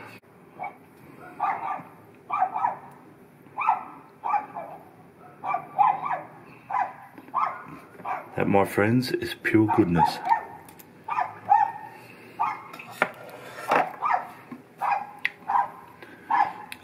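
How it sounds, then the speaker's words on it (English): Dog barking again and again in a steady run of close, loud barks that last the whole time. Someone talks over the barking. "sorry about the dog barking."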